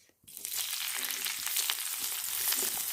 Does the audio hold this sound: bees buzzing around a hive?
no